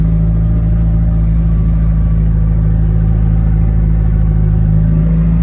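Nissan S13 accelerating in second gear, a loud, close, continuous engine drone with steady low rumble and strong harmonic tones, sustained without break and no voices.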